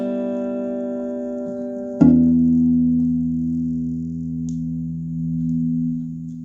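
A low, sustained bass tone rings through a $10 yard-sale amplifier. A higher note gives way to a sharp attack, then a deep humming note sustains steadily and fades slightly toward the end.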